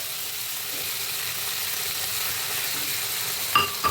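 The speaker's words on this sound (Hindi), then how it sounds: "केवल ये टमाटो प्यूरी जाएगा थोड़ा, 2 बड़े चम्मच" Tomato puree sizzles in a frying pan, a steady close hiss of frying with a couple of brief metallic clinks near the end, with no talking.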